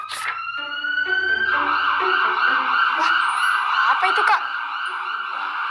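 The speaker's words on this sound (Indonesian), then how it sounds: "Itu bunyi mobil pemadam kebakaran." A fire truck siren wails loud and sustained nearby, holding a steady high tone, while a voice asks a question over it.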